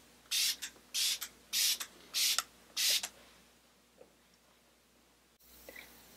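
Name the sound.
spraying Hydra Enhancer setting spray on face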